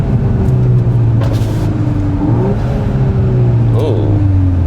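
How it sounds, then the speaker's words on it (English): A VW Golf R MK8 with an intake and stage 1 tune is heard from inside the cabin, the engine note dropping and rising through downshifts with turbo whooshes and a steady road rumble underneath. "Let's see what the downshift sound like."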